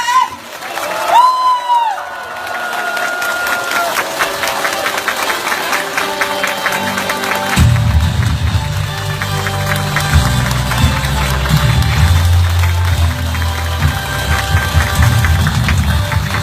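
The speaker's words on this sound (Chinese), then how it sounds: "让我们最棒的掌声 欢迎我们李荣世李总裁。" Large audience at a corporate event applauding to welcome the company president to the stage: broad sustained clapping with some cheering, beginning lightly and swelling into a dense, loud, continuous roar with low rumble after the midpoint.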